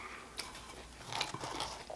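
Biting and chewing a sausage and peppers sandwich with cheese on Italian bread, close soft chews with a few faint crunches and wet mouth sounds, quiet and without speech.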